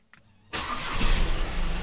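An Audi car engine starting with the brake pressed: a brief click, then a sudden starter crank that catches into a steady, close idle rumble.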